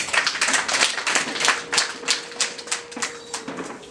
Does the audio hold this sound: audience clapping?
yes